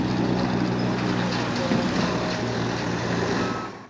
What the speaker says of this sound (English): the oil trucks are going backwards.